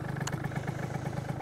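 A Yamaha Aerox scooter fitted with a wheelie bar runs close by, its engine holding a steady, even idle throughout with no one speaking.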